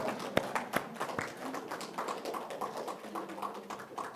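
A church congregation at a Thanksgiving Sunday service claps in thanks, starting with a few sharp isolated claps that thin into soft, scattered clapping, fairly quiet in a large room.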